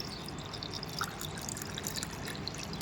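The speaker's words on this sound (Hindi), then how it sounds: "अब मैं इसमें पानी डालती हूँ" Water is poured into an old clay pot, a matki, giving a steady trickling, dripping flow that runs on alone at moderate level with no talk.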